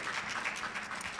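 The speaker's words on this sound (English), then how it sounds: "let's give a great round of applause to Dr. and Mayor Pro Tem Vivian Burke" An audience applauds at a city showcase of song, broadband clapping holding steady and fairly loud for the whole short stretch with no voices over it.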